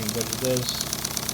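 A small LBSC Tich model steam locomotive running on compressed air gives a quick, even mechanical chatter like a little sewing machine, with no strong exhaust beat, steady and close, while someone talks over it.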